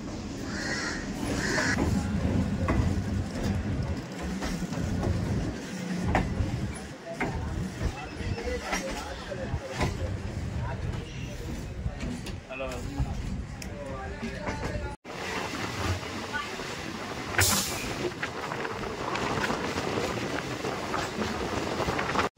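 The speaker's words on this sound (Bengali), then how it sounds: "আর আমাদের ট্রেন ছেড়ে দিল শিয়ালদা স্টেশন" A Namkhana local train pulls out of Sealdah station, bringing a continuous rumble and clatter of rolling carriages mixed with crowd noise, crows cawing and scattered voices, then a steadier rolling drone.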